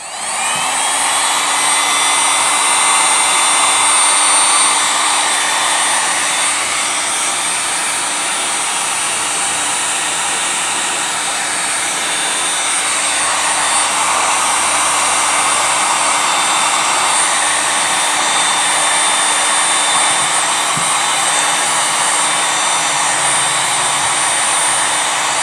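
Heat gun on high setting blowing hot air to warm an RC engine before starting, a loud steady close-up roar that holds unbroken throughout.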